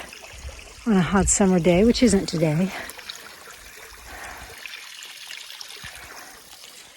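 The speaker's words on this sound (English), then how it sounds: "what seems to be some fresh spring water to refill your water bottle" Fresh spring water trickles steadily at a small roadside rest area, a soft continuous flow heard first under someone speaking and then alone.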